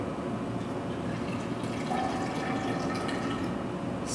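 Clear, colorless liquid, about 50 milliliters, poured from a graduated cylinder in a steady, continuous trickle for several seconds, close and moderately quiet, with no talking.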